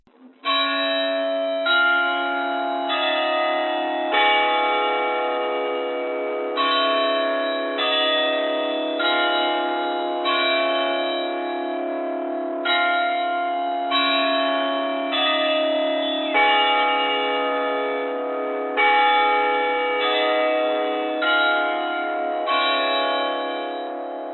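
Church bells ring out in a long peal of overlapping, resonant strikes, each one ringing on and decaying under the next, steady and loud.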